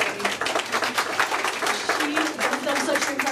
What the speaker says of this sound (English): And can we just give Amanda a quick round of applause?